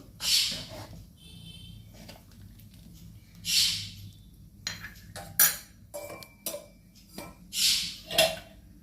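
A spoon stirring mixed-vegetable sambar with tomato in a pot, producing a few scattered clinks and scrapes against the metal, with quiet pauses between strokes and no voices.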